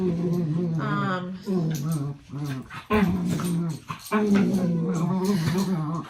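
Dogs whine and whimper loudly at close range in a home sewing room, with drawn-out pleading cries, brief growls and yips, and a short pause midway.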